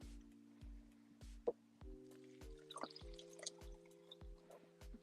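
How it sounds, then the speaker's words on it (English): Hot water trickles and drips into coffee in an indoor setting, a series of soft, regular drips and small liquid splashes repeating about every half second, faint and close with a low steady hum beneath. "Just pour some hot water in there, like dripping."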